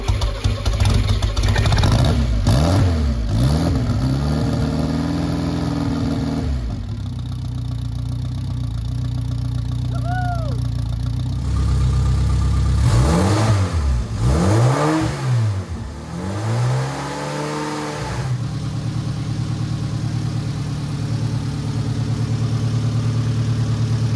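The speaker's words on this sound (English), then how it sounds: "revs of little Rally Ragnar behind me" Rally Ragnar, a rally car with a history of engine problems, is revved hard several times nearby, sharp rising and falling blips between stretches of rough idle, loud and close with no talking.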